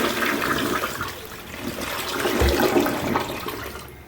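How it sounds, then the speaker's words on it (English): A toilet flushes with a steady rushing gush of water through the bowl after being unclogged with a toilet auger, close and loud in a small bathroom for about four seconds. "Flush number 3."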